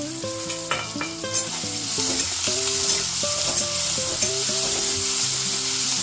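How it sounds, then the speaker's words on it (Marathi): Tomatoes fry and sizzle in a pan while being stirred, giving a steady close hiss with occasional scraping clinks and music playing over it. "टोमॅटोला असं चांगलं परतून घेते आणि टोमॅटो परतावा म्हणून त्यामध्ये मीठ टाकते"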